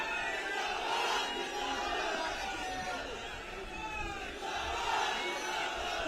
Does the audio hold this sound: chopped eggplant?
no